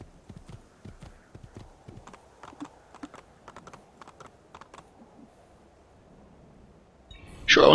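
Horse hooves in the Assassin's Creed video game clip-clop at a quick, uneven pace, close and clear over a quiet background, before a sudden loud burst of noise cuts in at the end.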